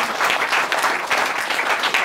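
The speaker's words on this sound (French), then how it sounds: "donnons une acclamation" A congregation at a church service bursts into applause, dense continuous clapping filling the room at steady loudness throughout, with no voices standing out.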